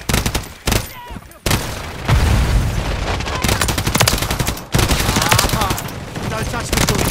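A frag grenade blast and loud gunfire in the Call of Duty MW3 video game, with rapid automatic bursts and booming hits that fill the scene and mix with voices.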